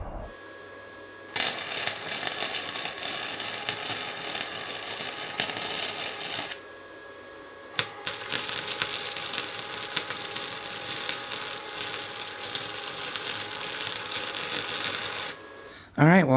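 Welding on a mini trike's front fork crackles and buzzes in two long sustained bursts, with a short pause between them, close and fairly even.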